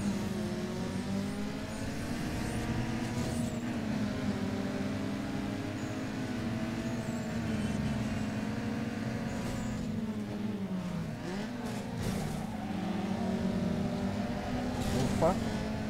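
Car engines in a sprint race in the Need for Speed Underground 2 video game, a continuous revving drone with shifting engine pitch throughout, joined by a talking voice.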